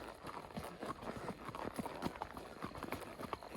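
Hooves of a buckskin gaited gelding ridden bridleless on a trail, a steady, soft rhythmic clip-clop of walking steps heard up close, with faint background noise.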